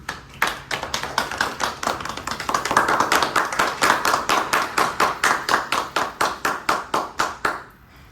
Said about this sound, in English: A huge round of applause again for our club president.